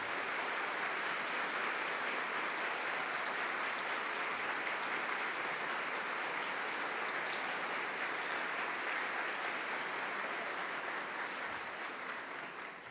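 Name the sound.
warm round of applause in church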